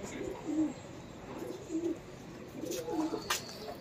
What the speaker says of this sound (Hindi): कबूतर अभी दाना चुक के आए बाहर